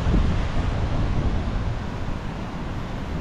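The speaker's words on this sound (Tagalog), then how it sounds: "Sarap din tingnan yung mga alon na napakalakas" Strong ocean waves crash steadily on a shore in Kuwait, a broad, continuous rushing roar with heavy wind buffeting the microphone throughout, no voices.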